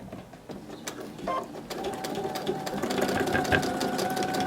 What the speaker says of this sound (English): and you can start sewing